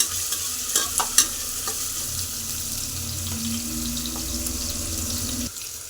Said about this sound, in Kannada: ಈರುಳ್ಳಿನ ಕಲರ್ ಚೇಂಜ್ ಆಗೋವರೆಗೂ ಫ್ರೈ ಮಾಡ್ಕೊಳ್ಳೋಣ